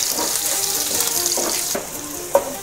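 Chopped garlic frying in butter with cumin seeds for a dhaba-style lasuni methi, a steady close sizzle with soft stirring and a small clink near the end, no voices.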